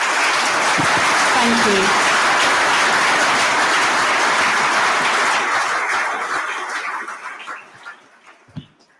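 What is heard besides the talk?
conference audience applause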